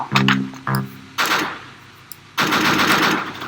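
Bursts of automatic gunfire from the Roblox shooter game Arsenal, several loud, close rapid volleys separated by short pauses, with a sharp single shot between them.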